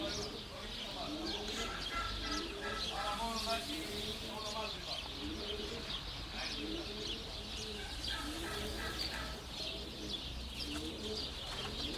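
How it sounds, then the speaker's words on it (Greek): Pigeons coo outdoors in a steady, overlapping murmur of soft rolling calls, with chirps mixed in and voices faintly in the background throughout. "βλέπεις ένα περιστέρι που πετιέται ξαφνικά από το πουθενά"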